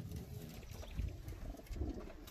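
Soft, low pigeon coos come in a couple of faint murmuring bursts over quiet background noise.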